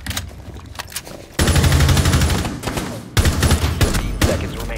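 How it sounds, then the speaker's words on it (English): Rapid automatic gunfire in the console shooter Rainbow Six Siege, loud and continuous bursts of shots with dense reverberant impacts, briefly easing before another intense volley. "Shots now."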